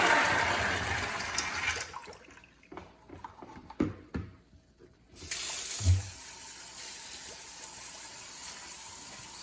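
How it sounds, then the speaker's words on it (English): Soaked beans are drained and rinsed under running water, a gushing pour at first, then quieter trickles and clatters, before a steady stream of tap water resumes. "we're gonna go ahead and drain and rinse these beans."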